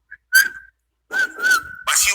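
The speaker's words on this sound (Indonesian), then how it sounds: "siul-siul pada dia." Short bursts of a person whistling, a steady clear tone held in a few separate phrases with brief gaps, fairly close and loud, with a hissy breathy burst at the end and no talk.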